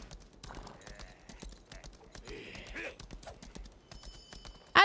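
A horse's hooves clip-clop in the Lost Ark video game, arriving in a forest area, a faint steady patter under game ambience that ends with a short louder burst.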